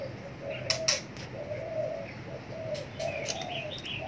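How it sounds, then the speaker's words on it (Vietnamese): A white-rumped shama parent calls near its chicks at the nest: repeated mid-pitched cooing notes with a few sharp chirps, moderately close over steady outdoor background noise. "Đó con chim bố nó bay lại nó giữ con đó, nó kêu tập tập đó."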